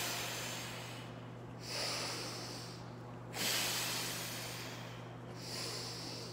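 Three deep, breathy exhales during a deadbug core exercise, each a soft rushing whoosh set apart by pauses, close and fairly quiet over a steady low hum.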